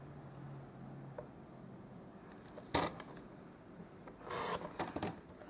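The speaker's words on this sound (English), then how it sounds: "And then I'm going to trim this down here." A paper trimmer cuts down the border of a monochromatic greeting card, making a quiet, close, rasping slide, then a longer gritty cutting pass a moment later.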